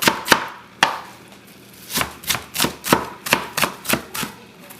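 A knife chops Hmong egg roll filling into tiny cubes on a cutting board, with quick, sharp, irregular thuds close by and no one speaking.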